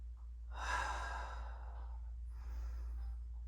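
Slow, deep breaths drawn in and let out while preparing for a push-up exercise, fairly quiet and close, with a low steady hum underneath.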